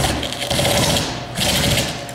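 A battery-powered drill whirs against a vehicle windshield to bore a start hole during a Holmatro rescue tool demonstration, running loud in two close bursts with a short dip in between.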